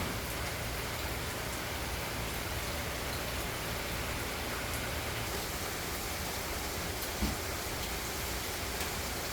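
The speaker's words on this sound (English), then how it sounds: "It is raining today." Steady rain falls outside a porch, a continuous even hiss of drops close by with one brief louder tap partway through, and no voices.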